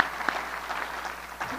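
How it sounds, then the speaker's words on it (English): An audience at an agtech summit startup presentation claps in a short burst of steady applause, heard from a moderate distance with no talk over it. "I would like to give them a big round of applause because they did it."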